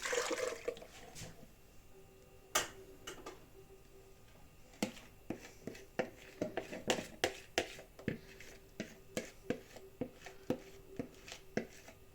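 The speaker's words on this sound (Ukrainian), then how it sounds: "цю каструльку виливаю своє желе" Raspberry mint jelly pours out of a saucepan in a short liquid rush at the start. Sharp, evenly spaced clicks and knocks of kitchen utensils follow, and there is no speech.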